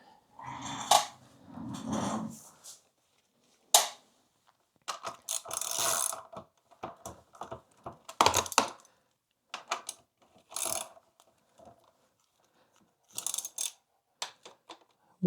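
A ratchet wrench is spun to tighten 12mm bolts on the front wheel of a Yamaha Tenere 700 motorcycle. Close, loud bursts of quick clicking alternate with short pauses, and there is no speech.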